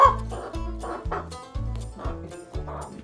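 Chicken clucking on a farm during morning chores, a series of short, loud, rhythmic bursts about every half second, close by, with no speech over it.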